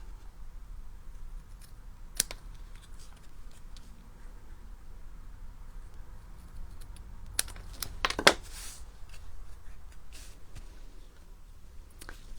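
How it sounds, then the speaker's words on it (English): Scissors snip off excess paper during a papercraft card-making session, a few sharp, isolated cuts standing out against a quiet room, with louder clustered snips near the end. "I'll snip off a little bit of the excess."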